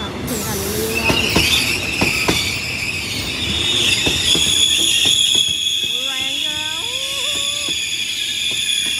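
Train at Bang Sue railway junction in Bangkok, with clattering wheels, rail squeals and a sustained high screech, heard close and loud while someone talks over it.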